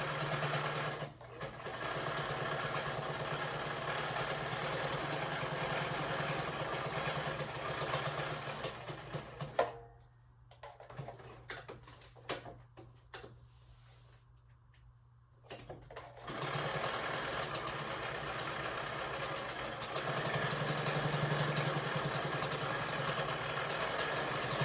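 A sewing machine runs steadily while stitching a denim journal cover, a continuous close motor whir that stops briefly midway and then resumes, with no talking.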